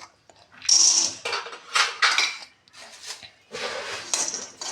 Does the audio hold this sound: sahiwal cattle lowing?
no